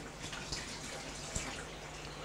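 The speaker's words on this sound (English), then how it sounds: "So I'm just going to take the water to run. Make sure it's hot water." Hot tap water running steadily into a cooking pot, a soft continuous splashing stream with one or two brief louder drips, faint and close.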